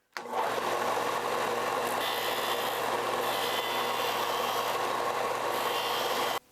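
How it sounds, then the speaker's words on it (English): A disc sander shapes the knuckle of a wooden snake fishing lure, giving a steady, close, loud whirring hum that starts abruptly and runs evenly for about six seconds. "I'll do it on this disc sander."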